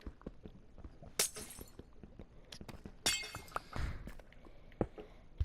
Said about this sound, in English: So once you mine it, it sounds like glass